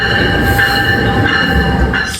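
A train in New York City rolls along the rails with a steady loud rumble and a high squealing whine from the wheels, heard up close and continuous with no talk.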